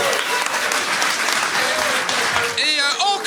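Loud studio audience applauding a comedian at a Quebec gong-show talent contest, dense steady clapping filling the whole moment with a brief tonal flourish near the end.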